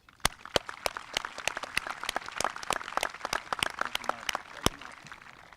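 A scattered round of clapping from a high school commencement audience, sharp individual claps at an irregular rhythm, moderately distant and fairly thin, with no one speaking over it.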